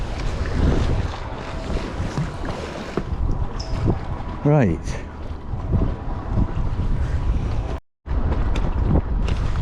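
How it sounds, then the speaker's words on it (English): Heavy wind buffets the microphone on a bridge in Bristol harbour in a constant roaring rumble, with a voice speaking briefly and a short dropout near the end. "God, it's windy here."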